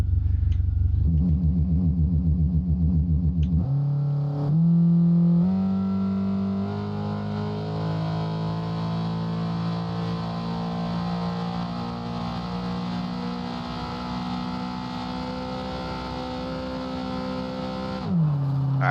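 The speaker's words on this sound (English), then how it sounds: "You could tell you hear the car lugging a little bit more." A Toyota AE86 drag car in the racing game Nitrous lugs its engine at length, a droning buzz that shifts up through the gears after a brief rev, heard alone and steady for most of the stretch.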